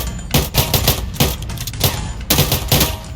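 Bursts of rapid automatic gunfire in a Minecraft game crackle in short volleys, loud and close, separated by brief pauses.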